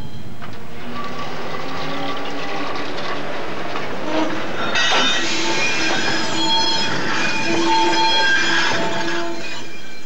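Quarry railway train hauled by 1963-built Ruston diesels at a chalk quarry in Barrington, Cambridgeshire, rumbling past loud and close with steady wagon clatter and rising squeals of wheels on the track.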